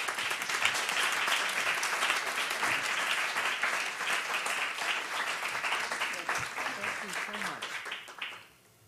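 Audience applause welcoming Senator Hassan at a women's equity forum, a dense, steady round of clapping from a room full of people that holds for several seconds and then tapers off at the end.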